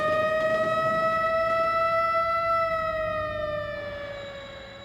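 A siren from a 2002 giant robot video game sounds a steady, sustained wail that slowly drops in pitch and fades toward the end, heard clearly on its own.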